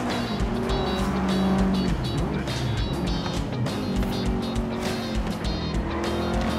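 Subaru WRX STI racing in Forza Horizon 4, a loud sustained engine roar with shifting revs and tire squeal, steady and dense throughout.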